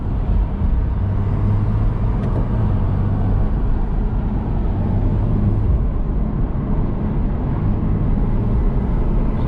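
Tuned BMW 640i Gran Coupe, MHD Stage 2+, with a TurboSmart blow-off valve, heard from inside as a steady loud engine drone with low rumbling and road roar under it throughout the drive.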